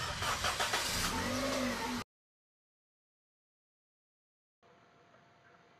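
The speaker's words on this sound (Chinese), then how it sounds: "右脚踩刹车，启动车辆引擎。" A car engine is started by a driver preparing for a road test: a loud two-second burst of cranking and catching, then a moment of quiet before a low, steady idle hum.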